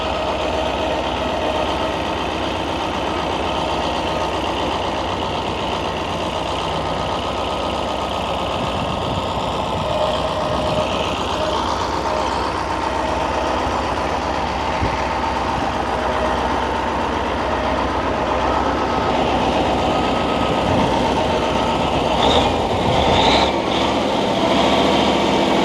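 A 47-year-old Ford FW30 articulated tractor engine runs steadily at high revs, a loud continuous mechanical drone with rattling, holding constant throughout.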